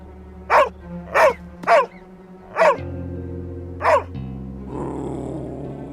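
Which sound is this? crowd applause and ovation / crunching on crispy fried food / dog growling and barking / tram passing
dog growling and barking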